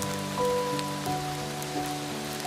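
Steady rain falling in a soft, even patter that continues throughout, with faint sustained musical tones held underneath and no voices.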